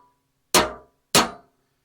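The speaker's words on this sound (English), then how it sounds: "just hit it with a hammer gently." Hammer gently tapping a part onto a dead Poulan chainsaw, two sharp metallic knocks about half a second apart, each ringing briefly before fading, close and alone.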